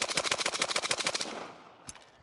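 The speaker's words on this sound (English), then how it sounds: "So now let me run this gun as fast as I can with this stance." A gun fires at its fastest rate in a rapid, evenly spaced string of about twenty close, loud shots. The burst stops abruptly and is followed by a single fainter report.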